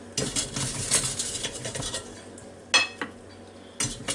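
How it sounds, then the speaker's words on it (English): A spoon scrapes and clinks against the inner pot of a Ninja Foodi while scooping out small cooked potatoes, giving a run of close metallic scrapes with a few sharper knocks, and no talking. "Now, let's take a spoon here, get these potatoes on out."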